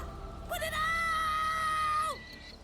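A burning pig in the video game Divinity Original Sin II lets out one long, loud, wavering squeal lasting about a second and a half, ending in a falling whine.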